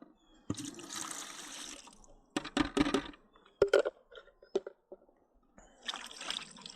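Permethrin concentrate pours and splashes into a bucket of water, followed by sloshing and swirling water with a few knocks, then more pouring at the end.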